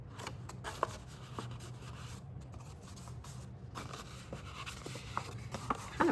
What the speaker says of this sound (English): Kind of burnishing it a little bit with my fingers